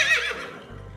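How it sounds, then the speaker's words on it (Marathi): A horse gives a short, bright neigh that fades quickly, clear and close with no talking over it. "हा आहे हॉर्स. हॉर्स म्हणजेच घोडा. घोडा म्हणजेच हॉर्स."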